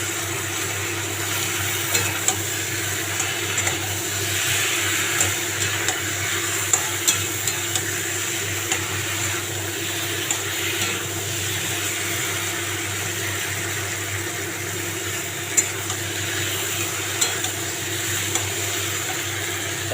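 Spice paste frying in oil for a thin fish curry sizzles in a steady, dense hiss, with occasional faint ticks and scrapes of stirring and no talk.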